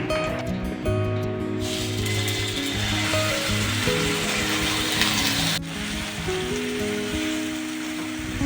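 Food sizzles in a frying pan with very little oil, sticking slightly to the pan, giving a steady close crackle under a sustained tonal hum that shifts abruptly partway through.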